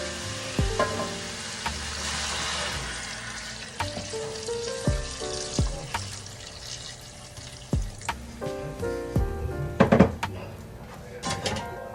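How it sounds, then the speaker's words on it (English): Fish broth poured into a pot on the stove for a fish stew, hissing and sizzling as it hits the hot pan, with clinks and knocks of a utensil stirring nearby. "now I'm going to add this fish broth to the pot"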